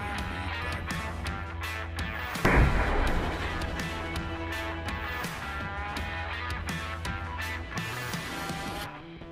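A 300 Blackout rifle firing a Hornady SST bullet into ballistic gel gives one sharp, loud blast with a short boom, then a steady background hum and scattered clicks for the rest of the stretch.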